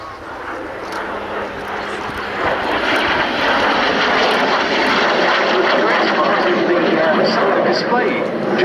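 A display aircraft flying at the Cosford air show, a jet-era trainer, gives a loud, building roar that swells and stays steady, with crowd noise and speech faintly underneath.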